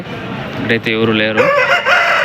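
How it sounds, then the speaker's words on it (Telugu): A rooster crows at a poultry market selling good-size roosters, its long harmonic call ringing out clearly and close by. Other fowl cluck around it, and someone speaks briefly in the same moment. "ఇక్కడ ఒక పుంజు అయితే ఉంది."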